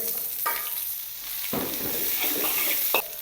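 Cabbage and cauliflower sizzle and crackle in hot oil, with a few bursts of stirring as they are tossed in the pan.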